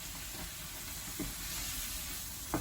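Partially defrosted prawns sizzling in a pan, a steady close hiss of frying with a couple of faint clicks, no talk.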